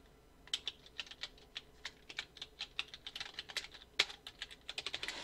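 Fingers tap out text on a computer keyboard in a quick, irregular stream of close, crisp keystrokes, with one sharper key press partway through and a faster burst near the end.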